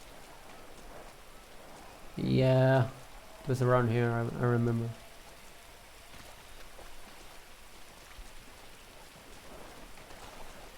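Rain in the game GTA V, a soft, steady patter falling over swampy ground throughout, faint and even, with someone speaking briefly over it near the start.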